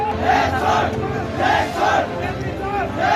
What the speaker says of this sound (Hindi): काठमांडू के साथ ही नेपाल के सभी बड़े शहरों में सड़कों पर नारे लगाते युवाओं की भीड़।